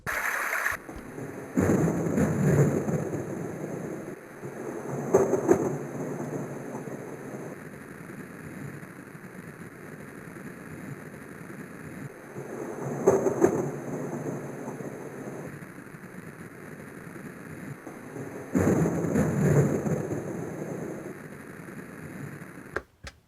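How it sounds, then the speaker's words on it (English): Rolling thunder rumbles in several separate waves over steady rain, each swell rising and fading back into the downpour. "it's a nicer thunderstorm sound than what we had on the Soothing Sounds 20."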